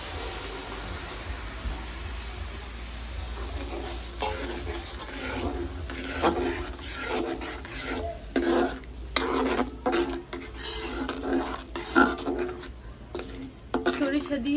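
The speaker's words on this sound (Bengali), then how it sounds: "সরিষা দিয়ে কিছুক্ষণ নাড়িয়ে ছাড়িয়ে মাছ দিয়ে দিই।" A spoon stirs mustard paste in a pan for sorshe ilish, with repeated scraping and clinking strokes close by under steady background hiss, while a voice talks over it.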